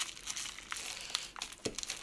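Crinkly packaging around a mini amplifier is handled and opened close up, giving quiet, irregular crackles and rustles with a few sharper snaps.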